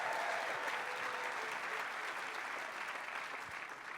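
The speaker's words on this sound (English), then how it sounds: "Please give them all a big round of applause" An audience applauds at a live public-radio event, steady dense clapping that holds for the whole stretch, fading slightly toward the end without any voice breaking through.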